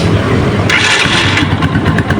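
Rusi TC 150 motorcycle engine starting, with a sharp catch as it fires, then settling into a steady, close idle with a rough, throbbing rumble, no talking over it.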